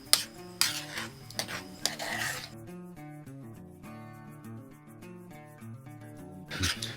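A spoon clinks and scrapes against a bowl while a mustard and apple cider vinegar sauce is mixed, with a few sharp taps in the first couple of seconds over steady background music.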